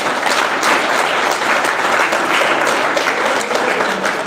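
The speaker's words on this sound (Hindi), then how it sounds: "तो यीशु के लिए तालियां तो बजाओ।" A church audience at a live preaching session in Daund claps loudly for Jesus, a dense, continuous wall of applause from many hands that holds at full strength throughout with no pauses.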